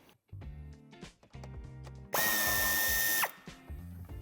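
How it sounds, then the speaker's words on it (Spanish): A power drill on an Audi A3 Sportback bumper spins out the corner screw in one steady, loud whirring burst of about a second, with a falling whine as it stops, set among nearby clicks and taps of the workshop. "quitaremos el tornillo de la esquina"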